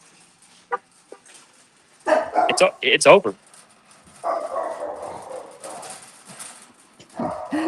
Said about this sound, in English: my dog started barking because he heard that car